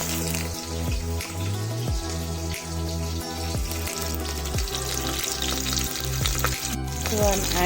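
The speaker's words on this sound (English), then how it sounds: "You need to fry the onions till they turn a little bit of translucent." Onions and green chilies frying in vegetable oil make a continuous bright sizzle with repeated sharp clinks and scrapes of stirring, and a voice is heard faintly underneath.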